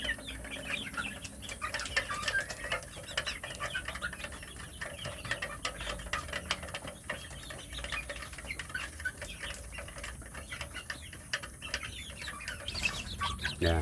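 Free-range village chickens cluck steadily around a coop where young chicks are raised for breeding, a busy continuous chatter of several birds at moderate distance with no talk.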